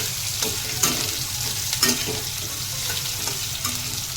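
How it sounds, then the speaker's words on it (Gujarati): Onions tossed into hot oil with cumin seeds and whole red chillies, a steady low sizzle of frying with a few sharp clinks and scrapes of a spoon stirring the pan. "કાંદા નાખી દેવાના બરાબર અને હલાવી કાઢવાની જેથી જીરું બળે નહીં"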